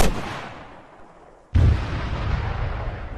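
Two loud rocket launches from the MAAWS or Vorona launcher in the Arma 3 Tanks DLC, each a sharp blast trailing into a long roar; the second shot at about 1.5 seconds is heavier and keeps rumbling to the end.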